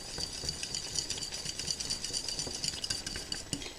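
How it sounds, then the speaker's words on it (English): Flour is stirred into lasagne sauce in a pot, making a soft continuous scraping with small rhythmic clinks of a utensil against the pot, fairly quiet and close, with no talking. "Just stir that in."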